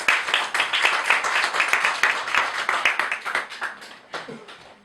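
An audience at a community debate event claps for a performer, Brother D. Nubian, in a dense, steady round of applause that thins out and fades toward the end.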